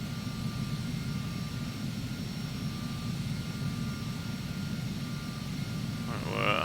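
Steady low engine drone of an aircraft on landing approach in the Prepar3d v5 flight simulator, heading into London City, with faint high tonal whines above; a brief chirping blip comes near the end.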